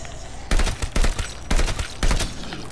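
Gunfire from Call of Duty: Vanguard: four loud bursts of shots, each about a quarter second long, evenly spaced across the stretch with brief gaps between them.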